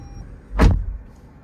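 A power window on a 2022 Toyota RAV4 Hybrid XLE Premium starts its automatic run down, heard as one sharp click followed by a brief motor whir that fades out. The sound is close and there is no talk.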